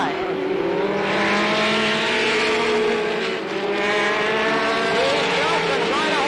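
Stock race cars roaring around the track at the 1985 Slinger Nationals, a dense, continuous pack of engines howling and rising in pitch, with a commentator talking over the noise.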